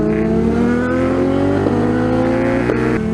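A loud 200 WHP Kawasaki motorcycle on a road in Scotland accelerates hard, its engine note climbing steadily through the revs over a sustained, continuous roar that stays close and dominant throughout.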